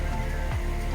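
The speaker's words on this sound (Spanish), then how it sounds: "Vamos, la lluvia." Summer storm rain in Cádiz, driven by an easterly wind, falls steadily as a dense, even wash of drops close by, with a low rumble underneath and no talking.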